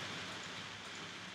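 Steady rain hiss from the Roblox game Natural Disaster Survival, a dense, even wash of drops that runs unbroken and fairly loud throughout, with no voices over it.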